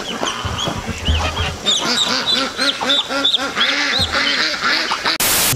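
A flock of farm ducks quacks loudly and close, with dense overlapping calls in quick rhythmic runs, over a voice talking.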